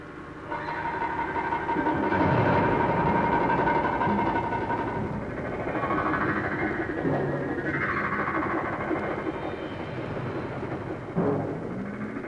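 Heavy machinery in a Honda motorcycle casting and forging shop drones and rumbles continuously, with whining tones rising and falling over a dense mechanical roar.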